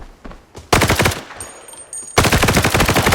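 Automatic gunfire in the shooter game Arena Breakout: a few scattered shots, then two loud rapid bursts, one in the first half and a longer one at the end.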